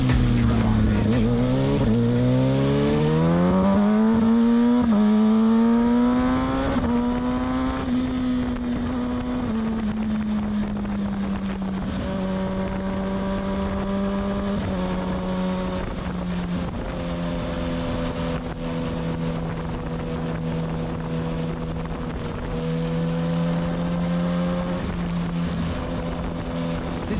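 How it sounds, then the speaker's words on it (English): A Kawasaki Ninja ZX6R fitted with an M4 exhaust revs loudly and up close, its pitch rising sharply in the first seconds, then settling into a steady throaty idle with occasional small blips, with no talking. "This exhaust is amazing."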